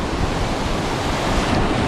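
Sea waves washing around a fishing boat out on the water, a steady broadband rush of surf and wind, loud and close with no talk.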